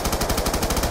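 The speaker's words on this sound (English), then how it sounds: "You shoot him in the face." Rapid automatic fire in Call of Duty Black Ops Zombies, a dense, loud rattle of evenly spaced shots packed into about one second.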